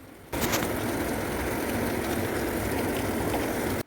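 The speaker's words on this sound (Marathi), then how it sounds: "असल्या जोरात धोधो धोधो पाऊस चालू झाला" Heavy rain pouring down steadily at a home, a dense, even hiss of rain on surfaces that starts abruptly and keeps going without a break, fairly close.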